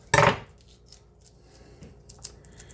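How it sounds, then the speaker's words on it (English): A single sharp, loud chop of a Hoshanho kitchen knife through garlic on a cutting board, followed by faint scattered knocks and taps in a quiet kitchen. "Let's see how this cuts garlic."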